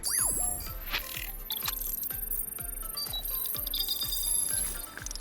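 Nokta Makro Simplex metal detector giving a high, ringing signal tone over a repeating clicking, ratchet-like rhythm outdoors, loud and steady throughout.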